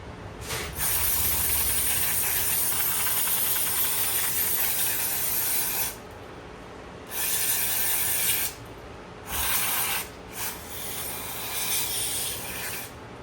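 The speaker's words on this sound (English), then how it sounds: "Spray all this stuff out with some brake clean." Brake cleaner aerosol sprays onto parts of a 4-speed Shovelhead motorcycle transmission during teardown, with several long steady hissing bursts separated by short pauses, close and fairly loud with no talking.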